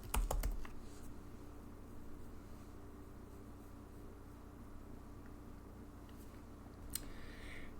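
Quick burst of computer keyboard typing at the start, then a quiet stretch with a low steady hum and one more faint click near the end, heard alone without speech.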